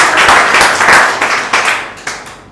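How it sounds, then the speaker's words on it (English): A small audience gives loud, close clapping that is busy at first, then thins into a few scattered claps and fades out. "Big round of applause."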